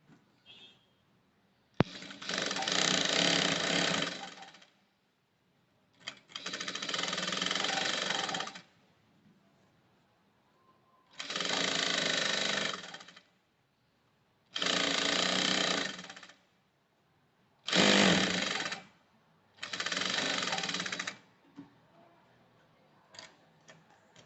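A sewing machine runs a plain stitch along the seam of a women's blouse sleeve in six separate bursts of rapid, even needle clatter, each lasting one to three seconds with short quiet pauses between, close and clear.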